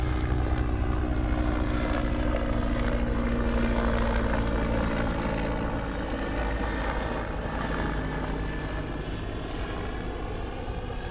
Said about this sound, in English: I'm thinking it's just a police helicopter.